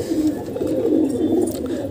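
A mother pigeon coos softly and repeatedly in a nest box where her baby is kept, a steady low murmuring call close by with no talk.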